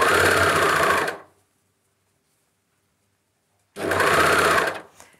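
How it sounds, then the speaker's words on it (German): A sewing machine stitches a cuff onto children's harem pants in two loud, steady bursts, each about a second long, with near silence between them and no talking. "und dann nähe ich."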